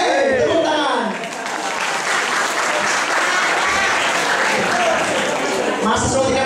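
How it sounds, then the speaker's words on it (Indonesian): Dense, steady applause from an audience at an open mic comedy show, loud and sustained for several seconds, with faint voices and cheers mixed in. "tepuk tangan"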